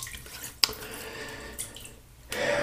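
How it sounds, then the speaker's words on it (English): Water splashes and drips at a bathroom sink while a face is wetted before a shave with a Gillette Tuckaway safety razor. Brief splashes and trickles are followed by running water swelling near the end, close by with no talking. "Let me just wet my face again"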